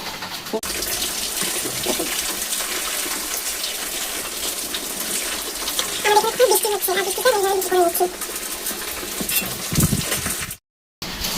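Luchi, puffed flatbread, frying in hot oil: a steady close sizzling hiss that runs for about ten seconds, with a brief drop to silence near the end.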